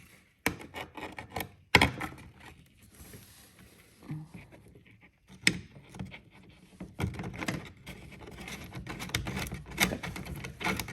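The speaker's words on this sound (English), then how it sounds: "So after you get both nuts in, you're just gonna tighten it down like so." Nuts being tightened onto carbon fiber rear bumper extensions, with scattered sharp clicks, ratcheting taps and rubbing scrapes coming in bursts at close range.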